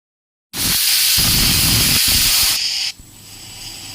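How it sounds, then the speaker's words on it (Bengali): Diced potatoes with a little salt drop into hot oil in a pan for Bengali chickpea curry, setting off a sudden loud, steady sizzle and hiss that dies down near the end, with the clatter of stirring underneath. "আলুগুলো একটু ভাজতে হবে"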